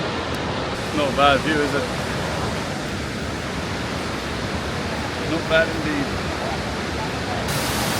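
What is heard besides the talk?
waterfall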